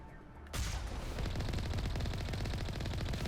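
Turrets in Mass Effect open up with sudden rapid automatic fire, a dense loud stream of shots that kicks in after a brief quiet moment and continues without pause to the end.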